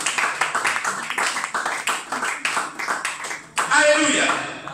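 A church congregation clapping rhythmically during a worship service, with steady repeated handclaps swelling briefly into broader applause, mixed with voices.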